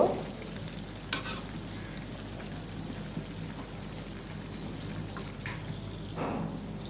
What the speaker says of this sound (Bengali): এখন আমি ঢেঁড়সটা খুলে এখন নাড়াচাড়া দিব